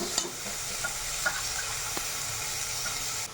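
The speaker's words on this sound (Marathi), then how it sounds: "Mix the veg." Shredded cabbage being stirred in a frying pan with chilli and salt, a steady close sizzle with occasional light scrapes and taps of the spoon, no talking.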